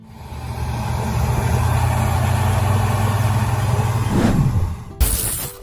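A John Deere 4020 tractor engine runs steadily at a low, throbbing idle, loud and close, then revs and dies away near the end before a brief sharp noise.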